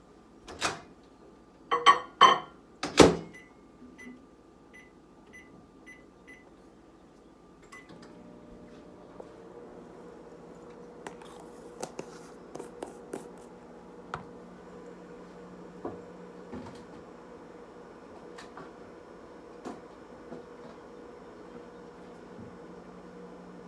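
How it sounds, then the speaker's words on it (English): A kitchen microwave oven runs for about thirty seconds to warm honey. A steady low hum with a faint fan whir sets in after a few sharp clicks and beeps, and light taps and clatter sound over the drone. "And I will put this for about 30 seconds in my microwave."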